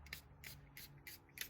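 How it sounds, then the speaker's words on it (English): A hand pump sprayer mists leather cleaner onto car interior leather seats, with four or five quiet, short rhythmic hisses close by. "Comes in a sprayer, so you just pump."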